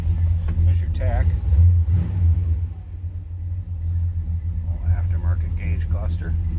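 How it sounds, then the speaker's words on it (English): A 1966 Buick Skylark Gran Sport with a 401 cubic inch Wildcat Nailhead V8 idles with a steady low rumble, running continuously under someone talking nearby. "401 cubic inches of that Wildcat Nailhead V8"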